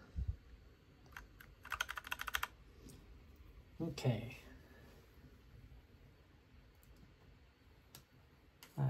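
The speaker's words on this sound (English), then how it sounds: "install the rest of the keys" Keycaps being pressed onto Cherry switches of a mechanical keyboard being repaired after a soda spill: scattered clicks and a quick rattling burst of snaps, with a brief spoken word in between.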